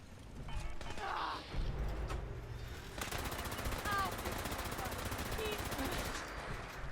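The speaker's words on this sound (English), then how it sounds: "Who's shooting me?" Rapid gunfire in the online role-playing shooter Fallout 76, a quick run of shots mixed with mechanical clatter and ambient game noise, heard under talking at moderate level.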